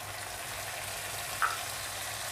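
Onion paste frying in a pan over browned onion for morog polao, a soft, continuous sizzle held at low level with one small pop.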